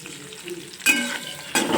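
Bottle gourd muthiya mixture sautéing in a pan, a close hissing sizzle that swells sharply when the food is stirred and scraped, loud and continuous with no voices.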